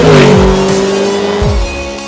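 A Mercedes SLS AMG on a Las Vegas racetrack revs hard, its loud engine note rising and falling in quick close bursts with gear changes.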